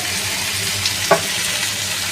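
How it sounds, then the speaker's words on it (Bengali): Okra (bhendi) frying in a pan, a steady broadband sizzle with a brief soft clink of stirring near the middle, heard alone. "ভেন্ডি ভাজার সময় বেশি নাড়াচাড়া করবেন না"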